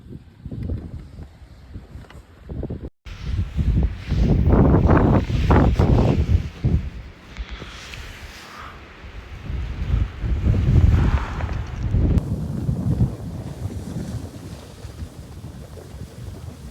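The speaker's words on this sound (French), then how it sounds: "Il y a beaucoup de vent." Strong wind at a ski area buffets the microphone in loud, rumbling gusts that rise and fall, with a brief dropout early on and no voices.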